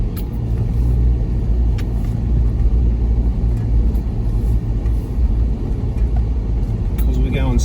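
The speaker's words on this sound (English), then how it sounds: "We've got 3 wheels spinning underneath us some of the time" A 4WD with a busted CV joint, three wheels spinning as it scrabbles up a rough track in Wonnangatta Valley, a loud, constant low engine rumble heard from inside the cab, with people talking over it.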